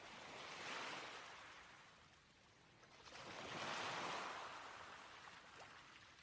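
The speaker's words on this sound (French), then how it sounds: "On entend la mer." Sea waves wash in, rising and falling in two slow, soft surges of hissing surf, heard at a gentle distance with no voices.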